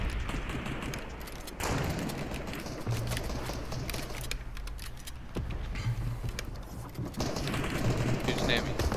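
Gunfire from a shotgun and other weapons in a Fortnite squad tournament match, dense bursts of shots and game noise crackling continuously with players talking over them.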